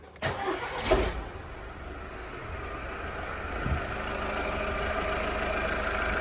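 A 2010–2014 VW Polo 1.4 with a coolant leak cranks and fires up, a short starter whir then a catch, settling into a steady, even idle that continues close by.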